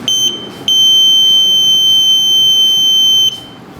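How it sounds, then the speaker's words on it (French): Flame detector buzzer in a connected-house model, a piercing high electronic tone sounding in a short beep and then holding steady for nearly three seconds before cutting off. "quand on approche de la flamme, le buzzer retentit automatiquement"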